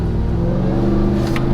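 A Dodge Ram TRX pickup truck's engine revs and accelerates during a test drive, a steady loud drone heard close up from inside the cab with a brief rising whine near the end.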